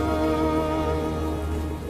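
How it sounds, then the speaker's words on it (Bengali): Steady, dense rain sound effect for a Bengali horror audio story, an even hiss over a low droning hum with no clear thunderclap. "মেঘের গর্জন থামছে না, বর্ষণ বেড়েই চলেছে"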